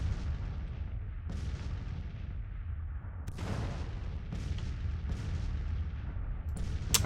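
Artillery guns firing in a Grand Tactician Civil War battle, several distant booming shots spaced a second or two apart over a constant low rumble of battlefield ambience.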